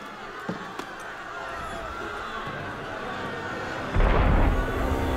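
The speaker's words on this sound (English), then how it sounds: "That was cannon fire." A deep, booming cannon blast erupts near the end, following a couple of sharp pops, all over a dense, noisy soundscape in Assassin's Creed Unity.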